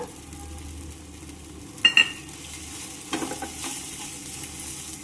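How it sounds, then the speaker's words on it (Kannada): Spicy raw mango chutney is stirred and mixed in a pan over a gas flame, a low continuous sizzle with a sharp metallic scrape of the spoon near the middle and softer scraping strokes afterward. "ಹಾಕಿ ಎಲ್ಲ ಚಲೋದಂಗೆ ಮಿಕ್ಸ್ ಮಾಡ್ಕೊರಿ"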